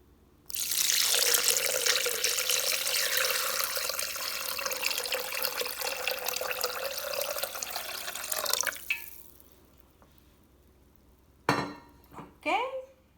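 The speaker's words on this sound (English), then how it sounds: "So I'm gonna add water all the way there." Water pours steadily into a Thermomix bowl for several seconds, a bright continuous splashing that cuts off abruptly, followed by a few clattering knocks of the bowl and lid.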